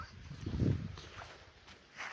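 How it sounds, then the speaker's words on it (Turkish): A dog makes a short low vocal sound, close by, against a quiet outdoor background. "Arkadaşlar yeni bir köpek getirdim."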